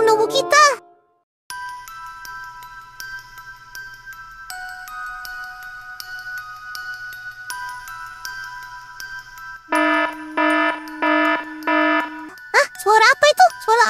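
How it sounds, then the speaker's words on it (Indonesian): A CCTV alarm in Sakura School Simulator sounds as repeated electronic tones and beeping chimes, with sustained pitched notes shifting in steps, then a rapid pulsing burst, with brief child-like voices at the start and end. "Itu kan suara alarm CCTV."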